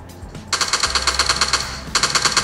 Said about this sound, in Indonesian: Kayaknya dia sedang tembak-tembakan.